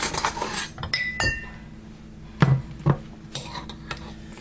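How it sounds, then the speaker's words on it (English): A butter knife is picked up from among dishes and silverware in a home kitchen, giving a few sharp metallic clinks and light clatters spread over a few seconds, close and fairly clear. "Let me grab a butter knife."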